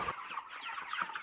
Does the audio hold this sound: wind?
no